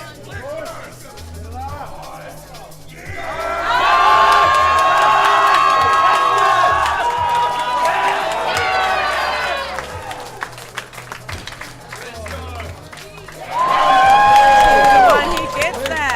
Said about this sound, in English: Final lift. Crowd goes wild.